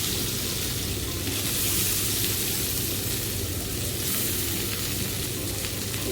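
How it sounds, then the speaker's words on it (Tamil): Potatoes stirred into sizzling mustard seeds in a pan for Tamil-style potato fry, a loud dense continuous frying hiss and crackle up close. "இப்போ நம்ம கலக்கி வச்சு உருளைக்கிழங்கு போட்டுடலாமா?"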